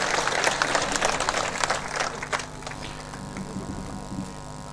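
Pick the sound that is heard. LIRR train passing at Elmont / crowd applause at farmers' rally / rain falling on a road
crowd applause at farmers' rally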